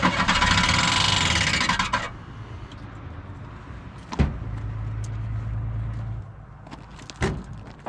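A Chevrolet El Camino engine with a damaged torque converter cover turns over after a burst of broad noise, then settles into a low rumbling idle with a couple of sharp knocks.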